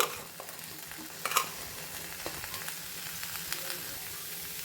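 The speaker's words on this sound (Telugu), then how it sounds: "కడిగి వాష్ చేసి పెట్టుకున్న అంతా వేసేసి దీంట్లో వేపుకుందాము" Washed cauliflower frying in oil gives a continuous soft sizzle, with a few brief clatters from stirring partway through.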